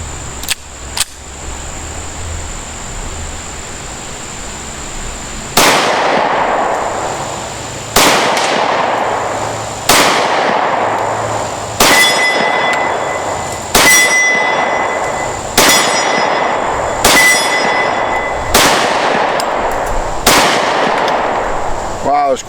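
Sharp gunshots from a Smith & Wesson 4013TSW pistol ring out at a range, two early shots then a steady string of about eight loud reports with ringing metallic decay, spaced a couple of seconds apart.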